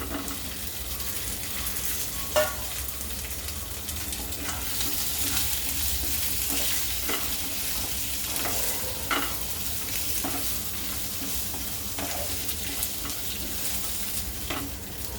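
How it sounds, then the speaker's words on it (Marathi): Chopped tomatoes and onion sizzle and fry steadily in a hot pan with cumin, with occasional stirring scrapes over a continuous crackle. "परतून घेऊ त्यामध्ये घालूया इथे मी दोन छोटे टोमॅटो होते ते चिरून घेतले आणि एक कांदा"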